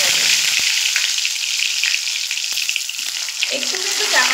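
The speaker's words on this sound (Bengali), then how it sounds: "এবার আমি পটলগুলো ভেজে নেব।" Chopped pointed gourd (potol) frying in hot refined oil gives a loud, continuous sizzle with scattered crackles and pops, and a few soft clinks of a utensil come near the end.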